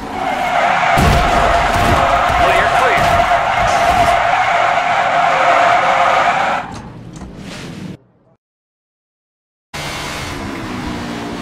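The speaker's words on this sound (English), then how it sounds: "car wreck." Race car in the NASCAR 21 Ignition video game skids with a loud, sustained tire screech and engine roar for several seconds, then a crunch of impact, sudden silence, and the game audio resuming.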